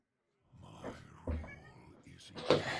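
A distressed house cat lets out a few short, strained meows in quick succession, fairly close but quiet, after a moment of silence.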